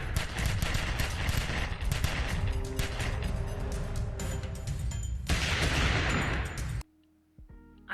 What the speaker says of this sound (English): Black Bat catches up to them and has the worst gunfight I've ever seen.